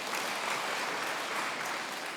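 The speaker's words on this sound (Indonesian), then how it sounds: "Tepuk tangan yang mengerti buat Tuhan." Steady applause from a church congregation at an online healing service, dense clapping at moderate loudness, continuous throughout.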